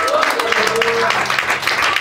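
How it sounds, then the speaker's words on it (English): Church congregation clapping hands, a busy spread of claps under a preacher's voice and a sung or drawn-out tone early on, continuing throughout. "Clap those hands better for Jesus."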